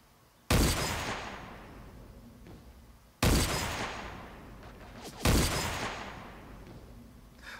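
Three loud, booming gunshots ring out with long echoing tails in the video game Creative Destruction, each blast spaced a couple of seconds apart.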